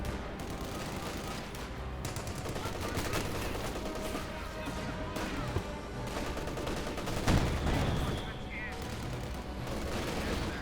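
Machine gun and artillery fire in the video game Company of Heroes 2, with dense continuous bursts of automatic gunfire and occasional heavier booms throughout, while a voice talks over the battle.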